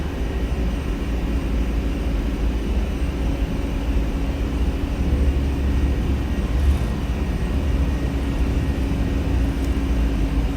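Airbus A300-600 jet engines at takeoff thrust in a flight simulator, a steady, loud broadband roar with low rumble holding constant throughout, no voices heard.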